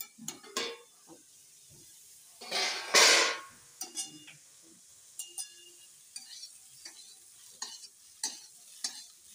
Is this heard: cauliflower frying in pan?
yes